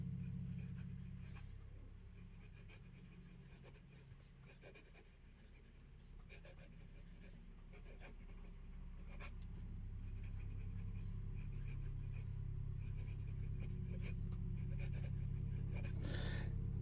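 Moonman M1000 fountain pen nib scratching across paper in a steady, faint, close-up stroke that runs continuously, with light breathing and low room hum beneath and no talking.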